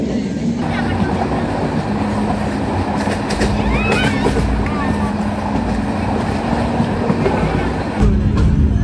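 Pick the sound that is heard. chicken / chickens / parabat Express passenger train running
parabat Express passenger train running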